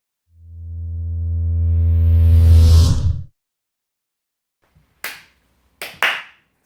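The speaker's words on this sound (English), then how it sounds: "Clap, clap." Three sharp, dry hand claps, the last two in quick succession, follow a sustained low humming drone and a short pause; each clap is close and clear.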